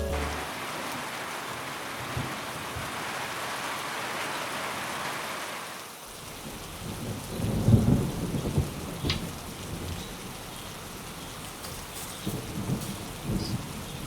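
Steady rain hisses on surfaces while low thunder rumbles, first as an even wash of rainfall, then with deeper rolling booms and scattered drops after a sudden shift in the sound.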